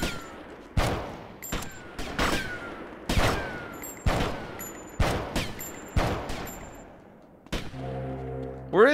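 Gunfire in Grand Theft Auto: Vice City: about a dozen single loud shots spaced roughly half a second apart, each with a short ringing tail, ending in a brief tonal game sound.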